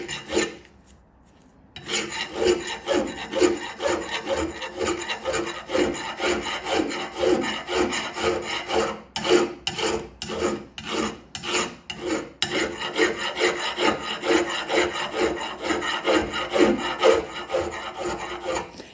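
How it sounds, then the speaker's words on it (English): Hand file rasping across metal in steady rhythmic strokes, close and fairly loud, a gritty scraping repeated continuously after a short pause at the start. "it's now the metal starting to really cut and drag through the file"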